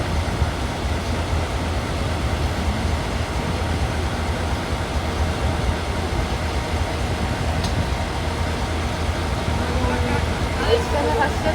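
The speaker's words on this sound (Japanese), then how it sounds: "列車が発車しますのでお気をつけください。" A DE10 diesel locomotive hauling old passenger coaches pulls out of Aizu-Kawaguchi station with a steady low rumble and rail noise under a crowd chatter, while a station announcement plays.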